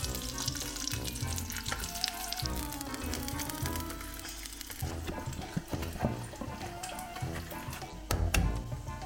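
Corn sausage frying in oil in a wok, a steady dense crackle and sizzle running throughout, close and fairly loud, with a few sharper pops and clatters near the end and no talking.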